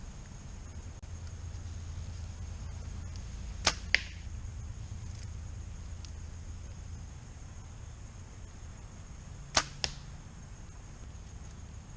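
Two arrows leave a bow at an outdoor archery range and strike a target, each a sharp snap followed quickly by a thud, several seconds apart against quiet background hiss.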